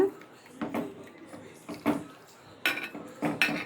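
Ingredients with chilli powder and turmeric are stirred in a pot, giving intermittent clinks and scrapes of a utensil against metal, with a few louder clattering bursts between quieter pauses.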